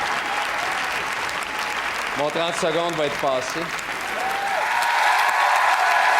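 Studio audience of a French television show applauding, a dense roar of clapping that swells and holds throughout, with someone speaking briefly over it near the middle.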